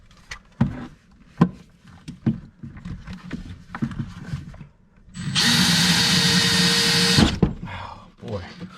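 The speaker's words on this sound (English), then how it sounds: "I'll get that hole drilled." A power drill bores a hole into a kitchen cabinet during an under-cabinet light installation, whirring loudly and steadily for about two seconds after scattered thumps and handling knocks, then cutting off abruptly.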